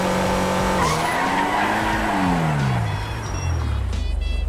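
A Hyundai Sonata EF in the GTA5 video game skids under hard braking, its tires squealing loudly and continuously with steady engine noise underneath, the pitch sliding down as the car slows.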